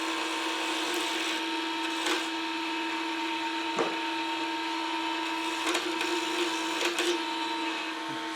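A wood lathe running at its top speed of 3800 rpm while rounding over a small wood keychain blank, a steady high motor whine with tonal hum and occasional brief tool-contact scrapes, no talking.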